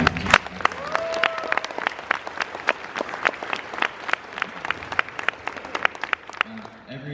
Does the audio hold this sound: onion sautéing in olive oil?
no